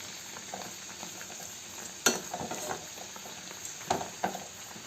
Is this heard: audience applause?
no